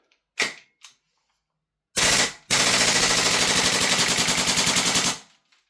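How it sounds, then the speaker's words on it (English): A Double Eagle Daniel Defense PCC gas blowback airsoft rifle fires two sharp single shots, then a rapid full-auto burst of snappy cracks lasting about three seconds, loud and close, with no talk. "I'm just going to do a quick burst"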